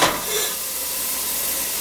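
Diced onion dropped into hot olive oil in a pan, a soft steady sizzle with a brighter hiss at the first moment, then an even crackle continuing alone at moderate level.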